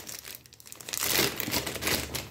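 Crinkly plastic packaging crumpled and tugged by hand to free a small tool from a Temu haul: close, rustling crackles that swell in the second half, with brief tearing-like bursts.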